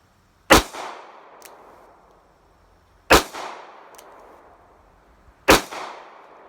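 Three loud, sharp gunshots from a Smith & Wesson revolver firing .44 Special rounds at a shooting range, evenly spaced a few seconds apart, each followed by a short echoing decay.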